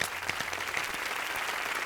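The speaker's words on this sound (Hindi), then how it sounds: "तो ज्ञानेश्वर गुंजन जी के लिए जोरदार ताली।" Applause from a stage-show audience for a poet, a brief faint burst of clapping heard from a distance.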